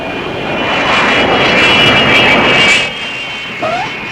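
An airplane arrives at an airport with a loud, close roar of aircraft engines that swells and then drops away after a few seconds, leaving a fainter tail.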